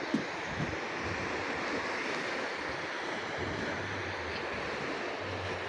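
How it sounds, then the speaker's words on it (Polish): Baltic Sea waves wash onto a beach at night in Rewal, Poland, in a continuous broad hiss, with wind noise and a low rumble underneath; no voices. "A tu morze."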